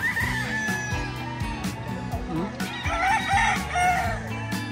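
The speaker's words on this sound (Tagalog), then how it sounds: "Daming manok ngayon." Several gamefowl roosters crow over one another amid clucking hens on a gamefarm, a busy, close-by chorus of poultry with no speech.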